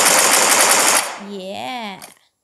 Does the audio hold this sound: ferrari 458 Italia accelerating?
no